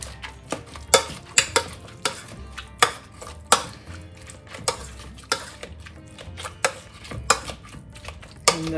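Buttery carrot and swede mash worked hard with a masher in a pot, giving a steady run of close, sharp thumps and squelches roughly twice a second under a faint background hum, with no talking.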